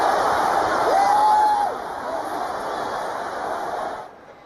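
A large crowd at a UFC mixed martial arts fight in Las Vegas roars in a steady, dense wash of noise. A single shrill whistle-like whoop rises above it before the din fades near the end.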